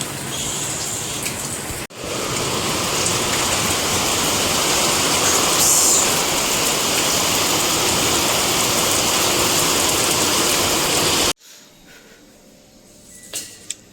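The season's first monsoon rain pours down in a dense, loud, steady wash of falling water and spattering drops, cut off abruptly near the end, leaving quieter faint sounds.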